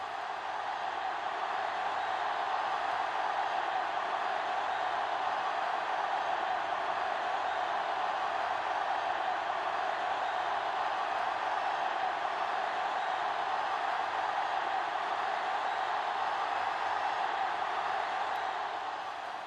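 Stadium crowd noise from the Madden NFL 2005 football video game, a steady, unbroken roar of a large crowd held at an even level throughout, with no voices rising above it.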